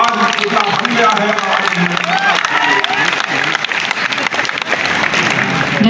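Audience clapping for a newly unveiled statue of Maharana Pratap at a public ceremony, sustained and dense with murmuring voices underneath throughout.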